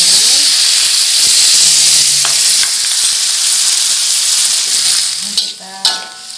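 A little water poured into a hot pan of frying bitter gourd, green chillies and tomato bursts into loud, close sizzling and steam hiss, with utensil scrapes and clinks near the end, no voices.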